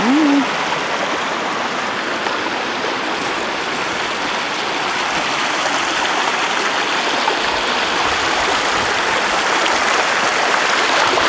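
Stream water rushes steadily over a ford on an open moor, a continuous close, broadband burble that stays even throughout, with a faint brief sound at the start.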